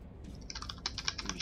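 Computer keyboard typing in Metro Last Light Redux, a steady run of quick, close key clicks over a low background hum, with no voices.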